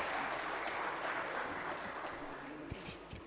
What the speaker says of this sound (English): can we give some unlimited round of applause for Mr. Pereira?